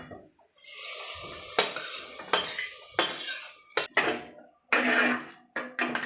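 Chicken being stirred into khichuri in a pot, a spoon scraping and clinking against the metal in repeated strokes with short pauses between, close and fairly loud with a faint sizzle underneath.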